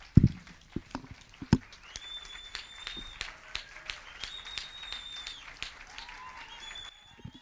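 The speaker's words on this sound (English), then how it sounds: "we can give them all a round of applause" An event audience at a leadership and debate gathering breaks into a sustained round of applause, with dense clapping and a few louder individual claps carrying on for several seconds.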